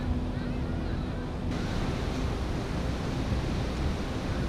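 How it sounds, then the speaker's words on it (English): Aggressive ocean waves break on rocks at high tide, a continuous loud surf roar with wind rumbling against the microphone and no voices. "The tide is perfect on those rocks. The bowl is filling up as well. The waves are aggressive, but not as much as we thought"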